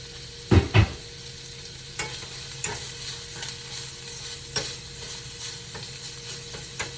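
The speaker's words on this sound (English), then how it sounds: "I'm going to drop this in this olive oil, and we're going to let this cook." Meat dropped into hot olive oil in a pan: two loud thumps of contact near the start, then a steady sizzling bed with occasional clinks and stirring noises.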